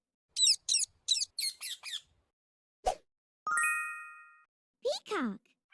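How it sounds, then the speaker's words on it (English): A parrot lets out a short, harsh squawk, close and clear, among other sharp bird calls, chirps and a ringing tone in a series of animal sounds, with silent gaps between them. "Parrot."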